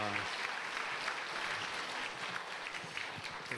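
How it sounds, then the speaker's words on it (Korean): Church congregation applauding during a Sunday afternoon worship service, a steady, dense wash of clapping filling the room from start to finish without pause. "예, 다시 한번 힘찬 박수로 한번 격려하겠습니다."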